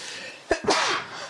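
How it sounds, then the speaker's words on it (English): A single close, sharp sneeze breaks out in two quick bursts over a quiet room tone, with no talking. "Did I just sneeze on you?"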